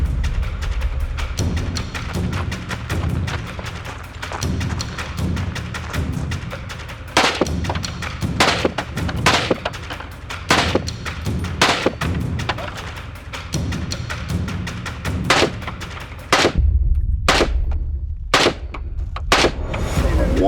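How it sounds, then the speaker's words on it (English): Gunshots during a competitive shooting course, sharp loud reports in uneven bursts, some in quick succession and others spaced apart, heard close over outdoor background noise. "One or two of those shots might have went off target, but overall, felt like a pretty good run."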